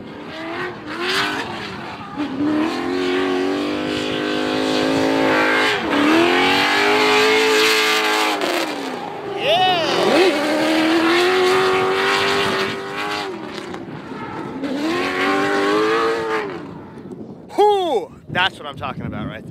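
A drift car taking a corner with a handbrake flick and clutch kick, its engine revving hard in long sustained pulls with rising and falling pitch, tire squeal near the end, and a commentator talking over it.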